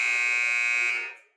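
A substitution buzzer at a girls' varsity high school basketball game sounds in one loud, steady electronic blast that holds for about a second, then fades out.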